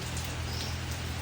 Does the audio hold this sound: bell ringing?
no